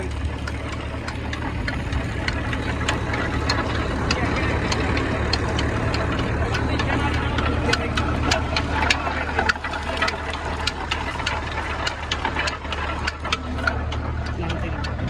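A tractor engine powering a sugarcane juicer runs steadily at close range, a continuous low chugging with a rhythmic knocking beat that holds throughout.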